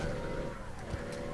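Car engine in the video game APB Reloaded, a steady low drone that holds at an even level throughout this short moment with no speech over it.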